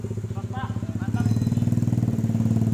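A Viar Cross X 70cc motorcycle with a racing exhaust idles in a steady, rapid pulsing putter that swells a little louder about halfway through, while people talk over it.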